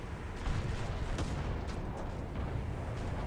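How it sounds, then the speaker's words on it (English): Destroyer naval guns firing during a War Thunder naval battle, a dense sustained rumble of booms and blasts at steady loudness, with a few sharper reports standing out over about three seconds. "Why is my gun shooting over there?"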